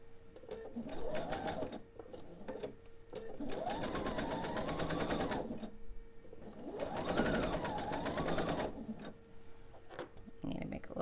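Sewing machine stitching a quilt table topper piece from the outside toward the center, in two long steady runs of rapid stitching with pauses between, while a person talks over it.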